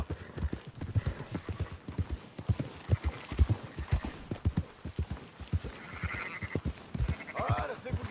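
Sheep bleat repeatedly and fairly close over a steady clip-clop of horse hooves while a flock is herded in the Western video game Red Dead Redemption 2, with occasional higher calls and no voices.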